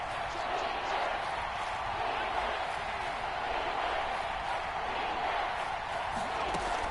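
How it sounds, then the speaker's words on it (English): Stadium crowd in the American football video game Madden 22, a continuous broad roar of cheering building ahead of a big third down, steady and loud with no clear breaks. "And the crowd getting into it as we come up on a big 3rd down."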